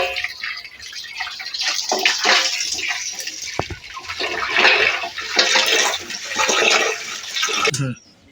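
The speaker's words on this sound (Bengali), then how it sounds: "মাছটা ধুয়ে পরিষ্কার করে নিচ্ছি" Running water splashes steadily while hilsa fish is washed clean by hand, a close, continuous broadband rush with fluctuating splashes that stops abruptly near the end.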